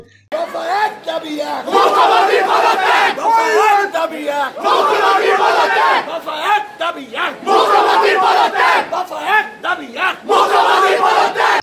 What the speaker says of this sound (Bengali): স্লোগান ওঠে